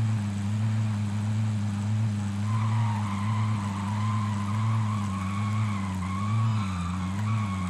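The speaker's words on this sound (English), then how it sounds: "let's just roll around in a vehicle." In Call of Duty Warzone, a car's engine drones steadily while its tires squeal in long, wavering skids, the engine pitch rising and dipping as the vehicle slides around.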